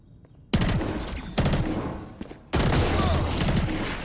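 Rapid rifle bursts ring out in a Valorant esports match, three loud sustained volleys of close gunfire separated by brief gaps, with a faint quiet lead-in before the first burst.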